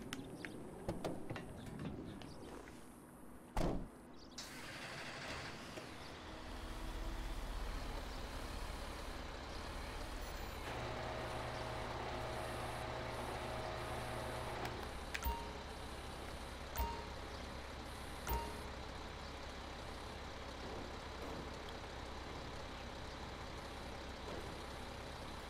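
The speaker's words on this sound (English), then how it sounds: "Alright, let me pull the truck forward." A rollback tow truck in GTA 5 rumbles forward with a steady low engine drone for several seconds, preceded by a few sharp clanks and thumps, with no talking.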